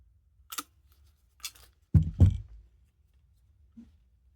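Scissors trimming embroidery backing around a stitched rectangle, a few sparse, close snips and clicks separated by quiet pauses.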